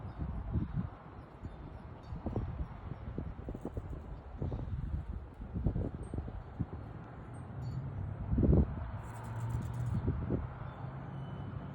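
Light wind blowing outdoors, a soft steady rush with faint gusts and rustling, fairly quiet throughout with a slightly stronger swell near the end.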